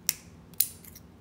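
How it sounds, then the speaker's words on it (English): Cheap scissors snip a tag end of fishing line off a snell knot on a catfish leader: two sharp, close, quiet clicks about half a second apart, with a faint mechanical rattle after the second, and no talk. "it's cheap scissors. You can cut it off as much as you want."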